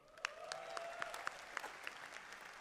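An audience claps together in a scattered, ongoing burst, the sharp individual claps rising and overlapping for a few seconds at a moderate distance.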